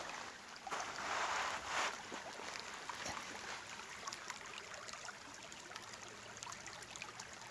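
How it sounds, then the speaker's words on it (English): Water flowing in a stream in West Virginia, a soft continuous rushing and trickling heard close by, faint and steady throughout without voices. "This water looks and sounds yummy."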